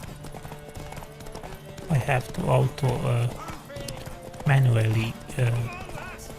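A horse's hooves clip-clop steadily in The Witcher 3: Wild Hunt PC gameplay, galloping in a rapid rhythm that continues under someone talking throughout.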